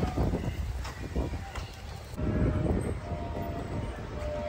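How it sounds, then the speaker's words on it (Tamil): A train rumbles past nearby at Veli Beach, Thiruvananthapuram, with a continuous rolling roar and rattling, a faint horn tone in the mix, loud throughout. "இந்த ட்ரெயின் வருது ஃப்ரெண்ட்ஸ்,"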